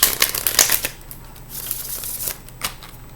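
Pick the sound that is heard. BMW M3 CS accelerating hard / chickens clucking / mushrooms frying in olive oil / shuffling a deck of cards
shuffling a deck of cards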